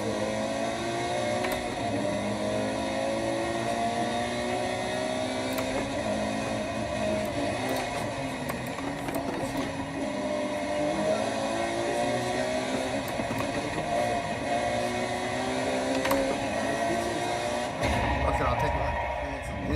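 A car engine in the Forza Motorsport 5 racing game hums and revs steadily throughout a triple-screen sim racing session, with shifting pitch as the car accelerates, while a person talks over it.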